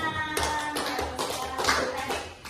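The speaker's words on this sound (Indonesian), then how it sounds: "Tepuk tangan" Children in a classroom clap their hands together in a quick, uneven burst of claps with a faint hum in the background, moderately quiet and fairly close.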